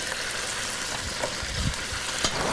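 Chicken browning in a pot for a one-pot dish, a steady close sizzle with occasional soft stirring scrapes, heard alone without talk.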